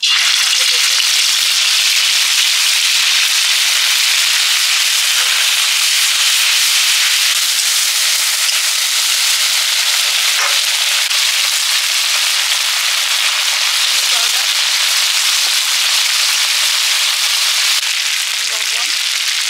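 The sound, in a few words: ground chilli, cumin and ginger paste frying in a pan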